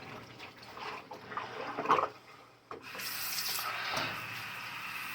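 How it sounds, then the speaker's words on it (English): A compression sock is rinsed under a running faucet in a sink, water splashing and rubbing close by, the flow quieter at first, then a fuller, steadier stream after a brief pause. "I'm going to rinse it out so I can hang it up and wash my last pair"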